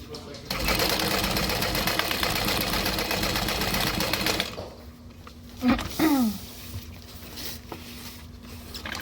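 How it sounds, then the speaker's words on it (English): A sewing machine stitches across the straps and handles of a Lindsport backpack in one loud, steady run of about four seconds, then stops, leaving a quiet room with a few brief squeaky sounds. "we're gonna stitch all the way across all of these straps and handles"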